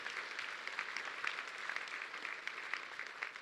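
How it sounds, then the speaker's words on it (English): Faint, steady audience applause fills a lecture hall, a dense soft patter of many hands that holds evenly throughout, heard at a distance with no clear voices over it. "let's give a big round of applause for Clark Feister here"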